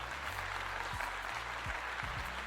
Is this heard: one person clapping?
yes